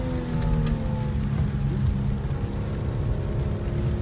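Steady rain drums around a car driven on a race track, a continuous hiss over a low engine rumble and tire roar, with no voices.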